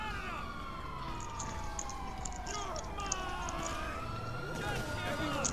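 Police car siren in a video game, wailing in rising and falling sweeps at moderate volume while players talk over it.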